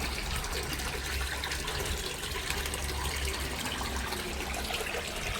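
Water rushing steadily through a home total water filter during backwash, a continuous moderate gushing flow with no break and no voices.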